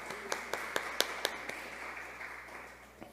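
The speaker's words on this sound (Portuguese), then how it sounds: "E uma salva de palmas." An audience at a ceremony marking the International Day of Black Latin American and Caribbean Women claps for a speaker called forward, sparse sharp claps at first, then a softer scattered patter that fades.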